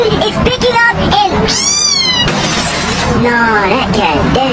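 A cat meows in a chaotic comedic hurricane scene, the drawn-out rising and falling cries standing out over a dense, constant roar of wind and noise while people talk.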